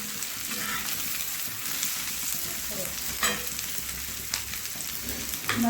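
Garlic and chicken kharda fry in a pan with a busy, crackling sizzle, broken by a few stirring scrapes and clatters near the end, close and steady with no talking.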